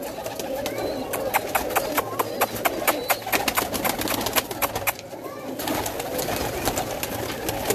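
Old pigeons, one kept for twelve years, coo and flutter on a rooftop loft in a steady busy chorus, with short sharp clicks and wing claps scattered throughout.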